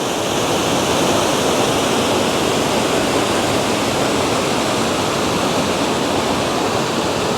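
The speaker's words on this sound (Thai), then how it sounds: "ฟังเสียงน้ำไหลน้ำตกนะพี่น้อง" The Kuang Si waterfall in Laos gives a loud, steady roar of falling water heard up close. The dense, unbroken rush stays constant throughout and covers every other sound.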